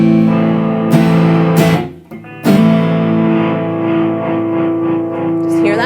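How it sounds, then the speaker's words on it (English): A hollowbody electric guitar played through distortion rings out in loud, sustained fuzzy chords, with a brief break and a fresh strum partway through. "But now I'm going to roll it back on with the distortion."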